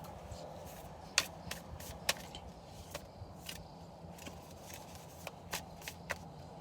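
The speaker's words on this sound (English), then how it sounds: "Let me pull a couple more cards." Tarot cards shuffled and handled close up in a quiet indoor reading, with soft continuous riffling and scattered sharp card snaps and flicks, no talking.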